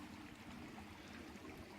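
A faint, steady babble of running water, like a small stream flowing continuously with no voices, beside the Bruce Trail.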